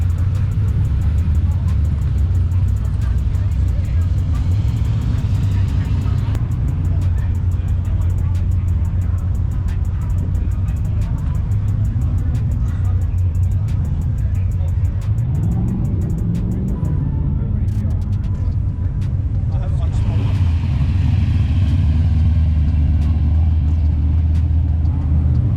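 Pro Street car at the Tuff Streeters car show, its engine rumbling loud and close in a steady low drone, with a rising rev near the middle, crowd and traffic noise around it.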